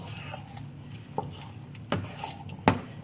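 Fufu being stirred and turned with a spoon in a thin cooking pot over lowered heat, with soft scraping and a few sharp clinks against the metal, close by and fairly quiet.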